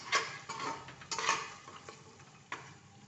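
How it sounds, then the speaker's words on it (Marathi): Turmeric and asafoetida are stirred into hot oil in a pan for moong dal and rice khichdi, heard as a series of scraping, tapping spoon strokes over a faint sizzle. "हळद हिंग पण चांगलं मिक्स करते तेलात"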